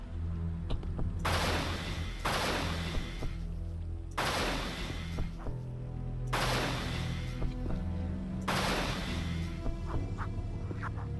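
Dispersion pistol fire in the video game Unreal: five loud, broad energy bursts at roughly two-second intervals, each with a crackling, hissing tail, over a low background drone.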